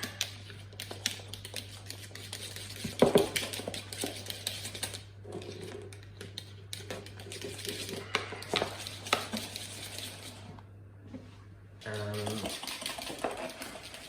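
Raspberry soufflé mixture whisked in a bowl, a steady close clatter of rapid whisk strokes running for most of the stretch over a constant low hum, with a brief pause near the end before the whisking resumes.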